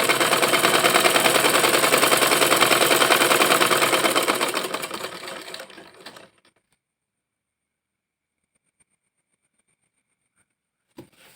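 A sewing machine stitching down a skirt seam runs in a fast, steady mechanical chatter for about six seconds, then stops abruptly, leaving near silence with a single faint click near the end.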